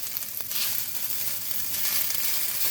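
Noodles frying in a pan on a stovetop just over medium heat, a steady bright sizzle with soft crackles and faint stirring, no voices.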